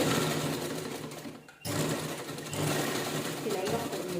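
A sewing machine stitches a blouse in a steady, close, humming run that stops briefly partway through and then resumes, with a voice talking over it.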